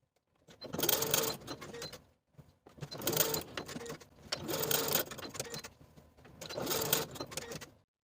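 A sewing machine bastes the outer edges of both sleeves on a 1940s-style blouse, running in four distinct bursts of steady, fairly loud stitching with short pauses between them, no voices.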